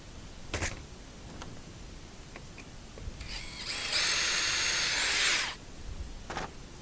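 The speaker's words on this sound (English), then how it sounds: "Now we'll drill our third hole here." A power drill whines loudly for about two seconds, biting through a plastic waste bin lid for a rivet, with a few faint knocks and clicks before and after.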